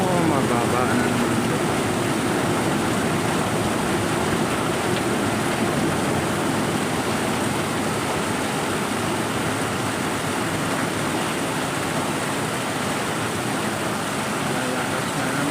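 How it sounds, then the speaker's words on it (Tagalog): Steady, heavy rain pouring continuously, a dense broadband hiss that stays loud and unbroken throughout. "Malakas na naman ang ulan."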